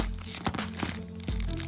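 Plastic action figure packaging for a crash test dummy figure being cut open, giving a few short crinkling, crunching snips of plastic over a steady low hum.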